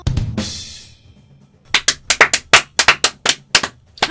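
A run of about ten sharp hand claps in a quick, slightly uneven rhythm, close and crisp, following a brief muffled rustle and a short quiet gap.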